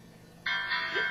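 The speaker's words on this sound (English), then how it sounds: "When you hear the piano riff" Short electronic alarm tone from an iPod timer, a piano riff that switches on abruptly and rings steadily and close for about a second, with a brief lower note near the end.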